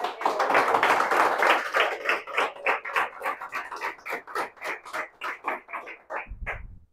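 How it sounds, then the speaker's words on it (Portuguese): A church congregation claps at a service, beginning as a dense wash of hands and thinning into rhythmic, spaced bursts of applause that gradually fade. "Vamos aplaudir a Jesus."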